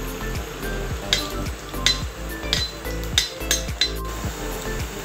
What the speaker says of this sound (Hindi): अब मैं इसमें लहसुन डाल रही हूँ।